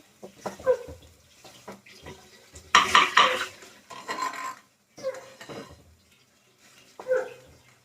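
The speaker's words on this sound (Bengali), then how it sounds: "আলু একদম স্ম্যাশড হয়ে যাচ্ছে" Boiled potatoes are mashed in a pan, with repeated close, uneven knocks and scrapes of a utensil against metal, one louder burst of clattering midway, and short pauses between strokes.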